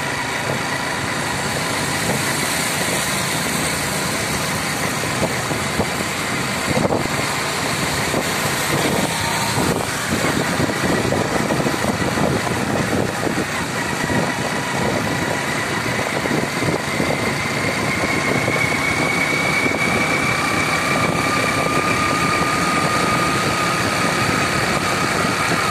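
A car engine drones steadily as the vehicle drives through dense fog, a continuous close hum of motor and road noise that barely varies, with no voices.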